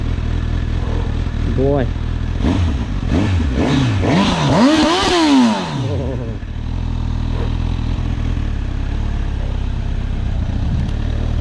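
A Honda CB1000 Hornet SP, a 1000cc motorcycle, revs in several rising and falling sweeps, then settles into a steady low engine rumble close by, with a brief voice over it.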